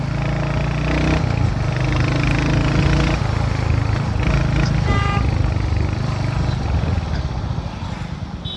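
A Royal Enfield Continental GT650 motorcycle engine runs loud and close, a steady throbbing rumble with slight rises in revs, briefly overlaid by a short horn-like toot.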